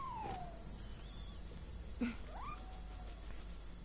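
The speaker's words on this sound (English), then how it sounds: "Kitty." A cat meows in the video game Nioh 2, a short mewing call at the start followed by another rising meow around the middle, heard over steady game background ambience.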